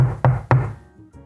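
Two sharp, close knocks land a quarter second apart on a hollow-sounding surface, each ringing briefly before a softer trailing tap or two fades out.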